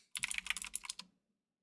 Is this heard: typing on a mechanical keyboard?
yes